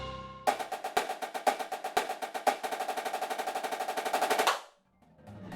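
Virtual drumline snare sample playback of rapid sticking patterns, paradiddles and double-stroke rolls, a dense run of crisp strokes with regular accents that stops abruptly after about four seconds and leaves quiet noise.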